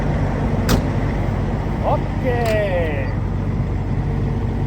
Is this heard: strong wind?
no